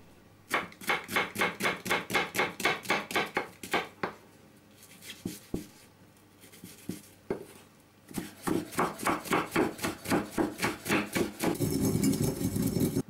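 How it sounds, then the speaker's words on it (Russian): Knife chopping two small onions finely on a board for a lamb rib shashlik marinade, a fast run of crisp rhythmic cuts, a pause with a few scattered taps, then another steady burst, close and clear. "Луковицы я мелко порежу"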